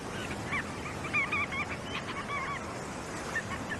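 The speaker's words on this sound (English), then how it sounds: "Enormous flocks of larger godwits join the red knots, also here to fuel up before the long journey north." Large flocks of godwits and red knots call on a beach, their scattered, honking cries rising in short bursts over a soft, constant background of surf and wind.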